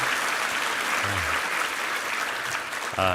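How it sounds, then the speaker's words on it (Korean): Dense, sustained applause from a large church congregation at a Thanksgiving service fills the whole moment, with a brief voice at the very end. "한번 힘찬 격려의 박수"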